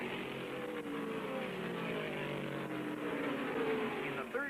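Stock cars racing on a restart at the 1974 World 600, a continuous roar of V8 engines with pitch sweeping as the field accelerates, slightly distant under a faint commentator's voice.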